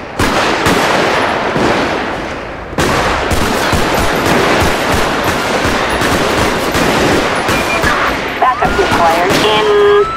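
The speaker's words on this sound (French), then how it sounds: "La fusillade." Sustained loud gunfire shootout in GTA with the LSPDFR police mod during an armed robbery gone wrong, dense overlapping rapid bursts close by for about ten seconds, with a brief siren-like tone near the end.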